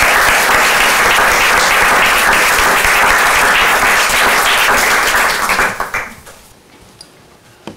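Loud, dense audience applause at a panel discussion on translation, sustained for several seconds before tapering off into a few scattered claps and near silence.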